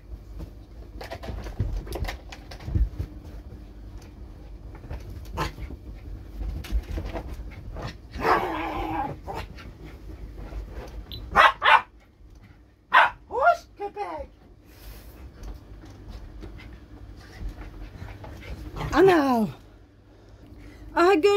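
A dog barks and yips in a home garden, several sharp nearby barks scattered among frequent talking and household sounds.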